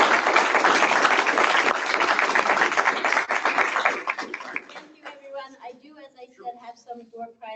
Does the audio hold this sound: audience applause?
yes